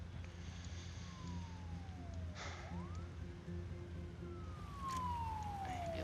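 Ambulance siren in the city-building game SimCity, a faint wailing tone sweeping down and up under a low ambient city hum, with a couple of brief clicks.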